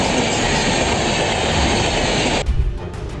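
A train rolls steadily along the tracks, its broadband rumble and rail noise loud and continuous before easing and thinning out near the end as it slows.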